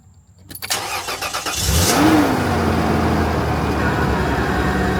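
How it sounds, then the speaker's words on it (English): An SUV engine cranks briefly and catches, then settles into a steady idle hum that continues to the end, close by with no talk. "we're going to turn on the engine"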